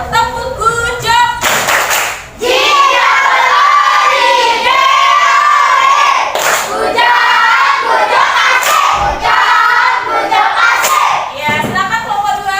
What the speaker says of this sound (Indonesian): Kita berikan tepuk good job dulu ya untuk kelompok 2 agar lebih semangat.